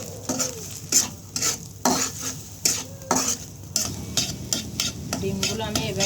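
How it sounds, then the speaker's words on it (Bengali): Beaten eggs seasoned with salt and pepper scramble in a hot pan as a spatula scrapes and stirs in repeated strokes over a steady sizzle, with a metallic clink of utensil against pan, no talking. "ডিমগুলো আমি এভাবে বেছে নিলাম ঝুড়া করে।"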